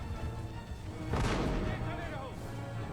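Cannon fire in the PC strategy game Empire: Total War, a heavy boom erupting about a second in and rumbling on amid battle din and ongoing voices.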